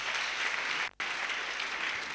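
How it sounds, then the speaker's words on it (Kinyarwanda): Dense, steady audience applause at a church farewell gathering honoring a reverend and his family. The clapping stays loud and continuous, with one brief break near the middle. "Tumukomera amashyi menshi cyane."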